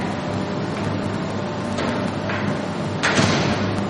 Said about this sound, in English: Just watch the door close in there.